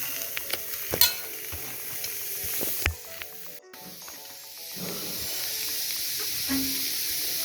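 Chopped onion dry-roasting in a pan without oil, a soft continuous sizzle and hiss broken by occasional stirring scrapes and clicks.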